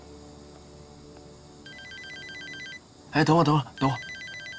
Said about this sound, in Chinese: 你先拍，我接个电话